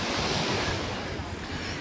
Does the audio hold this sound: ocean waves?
yes